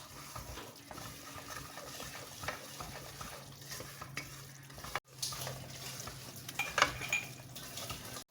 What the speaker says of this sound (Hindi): अब बिल्कुल आस्था आग रख के मैं इसको भून लूँगी।